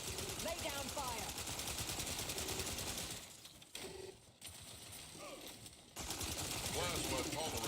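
Rapid automatic gunfire rattles in a firefight in the video game Outer Worlds 2, bursts of dense shots with a brief lull in the middle, overlaid with game effects and voiced lines.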